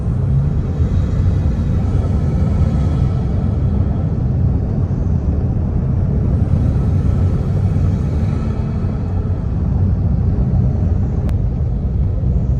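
Steady low engine drone inside the cab of a Nissan NP300 fitted with a snorkel, windows up, a continuous loud rumble at cruise with no break or talk.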